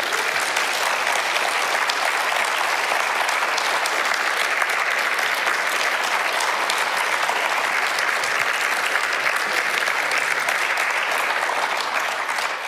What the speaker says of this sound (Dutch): Graag een groot applaus voor Marion